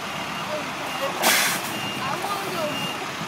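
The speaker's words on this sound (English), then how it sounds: "There's a truck backing up right here." Reverse warning beeps from a truck backing up on a residential road, heard faint and distant beneath steady outdoor background noise.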